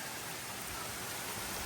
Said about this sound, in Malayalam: ആ മഴ പെയ്യുന്ന രീതി കാണണം